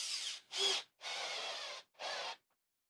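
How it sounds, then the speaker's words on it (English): A power drill whirs in four short bursts, the motor spinning up and stopping between each as a fastener is driven into thin sheet metal on a roof for solar panel mounting, close by. "Drill."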